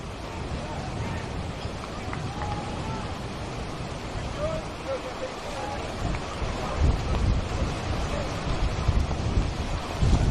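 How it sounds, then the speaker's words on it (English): Strong wind buffets the microphone throughout at an outdoor football match in Tasmania, a constant rumbling roar that swells louder toward the end, with no voices. "Going to get pretty windy here at Valley Road."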